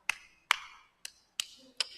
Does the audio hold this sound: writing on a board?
no